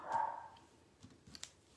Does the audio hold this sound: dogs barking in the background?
yes